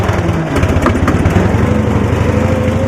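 Engine of a 1972 Cushman pickup running steadily with a buzzing, lawn-mower-like drone while its wheels spin in soft, wet grass, loud and close throughout.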